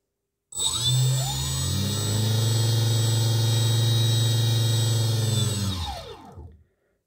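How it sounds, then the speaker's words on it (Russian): Two boat motors on a Runferry autopilot system spin up together and run forward at a steady, loud whine with a high tonal squeal. They hold for about five seconds, then wind down and stop. "Оба двигателя крутятся по часовой стрелке, это у нас движение вперед."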